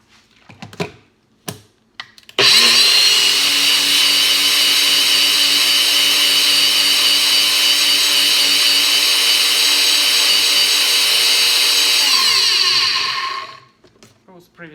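A NutriBullet blender mixes Greek pasta salad ingredients. A few short clicks come first, then a loud, steady whirring roar runs for about eleven seconds before winding down and stopping.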